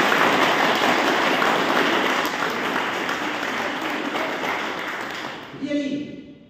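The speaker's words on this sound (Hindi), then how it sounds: "मैं चाहूंगा एक जोरदार ताली" Loud, sustained applause from a seminar audience at a sales training event in Siliguri, a dense wash of clapping that holds steady for several seconds before fading out near the end.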